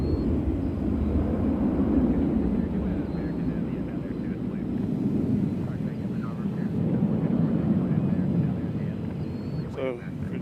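A British Airways Boeing 777 on a long taxi at Nashville airport sends out a low, rumbling engine drone mixed with wind buffeting, with faint voices partly audible beneath it.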